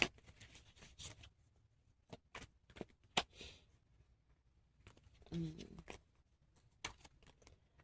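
A deck of tarot cards being shuffled by hand, with a series of soft, quick riffling and slapping bursts separated by short pauses, close and quiet.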